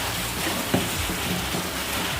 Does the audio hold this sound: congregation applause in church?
no